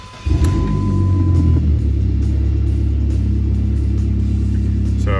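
A 2005 Dodge Neon SRT-4 ACR engine starts with a brief chime, then idles in a loud, steady low rumble, heard close and alone.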